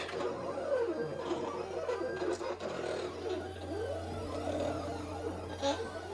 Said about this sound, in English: 3D printer's printing, the vinyl cutter's cutting.